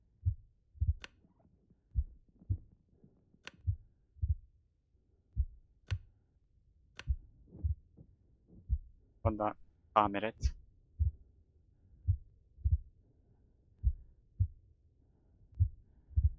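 A steady, loud in-game heartbeat from The Long Dark thumps in a regular double pulse throughout, with a voice speaking briefly over it partway through and a short high-pitched chirping sound in the middle.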